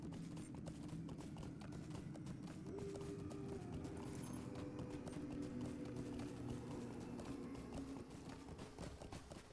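A horse's hooves clip-clop in a video game, a steady, quick trot running the whole way through over a dense bed of game ambience and music, easing slightly near the end.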